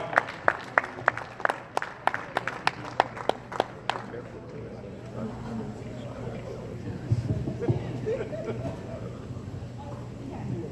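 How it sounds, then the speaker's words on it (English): Applause breaks out as poet Blaq Ice comes on stage at a live poetry show: sharp claps for about four seconds, then a busier crowd din with voices and cheering underneath. "Please round of applause for Blaq Ice"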